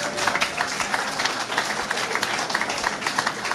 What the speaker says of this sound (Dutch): Mag ik nog een hartelijk applaus voor zulke groep Gerento.